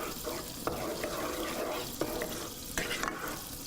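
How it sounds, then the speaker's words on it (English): Spoon stirring tomato sauce in a warming pot for an Italian meatball parmesan, giving a soft continuous scraping and bubbling with a few sharper clinks against the pot, close and moderately quiet. "I'm gonna stir my sauce a little bit"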